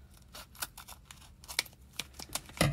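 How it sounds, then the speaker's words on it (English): Scissors snipping across the top of a Chaos Galaxy trading card pack, a run of short, close crisp cuts and crinkles of the foil wrapper, with a sharper snip at the end. "So I always cut the top."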